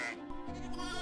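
A sheep grazing on an open compensation plot gives a single nasal bleat that is close and fairly loud, with no voices over it.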